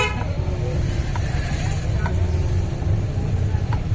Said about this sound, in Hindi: धीमे धीमे हल्के हल्के मैं भी एक्सीलेटर देते हुए इस मार्केट से निकल रहा हूँ